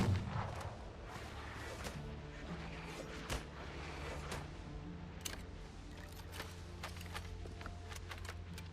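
Gunfire in the video game Windrose: a few sharp reports scattered through a steady low hum of game ambience and mechanical clicks, fairly quiet and spaced seconds apart, with no talking.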